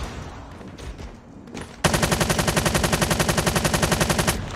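A weapon firing in Call of Duty Mobile, a few scattered muffled sounds giving way to a long, loud, rapid automatic burst of evenly spaced shots that runs steadily to the end.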